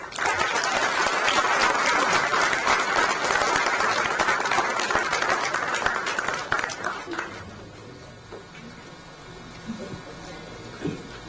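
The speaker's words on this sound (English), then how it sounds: "Please put your hands together for a huge round of applause." Loud, sustained applause from a large convocation audience honouring award recipients, rolling for about seven seconds before thinning into scattered claps and quiet room murmur.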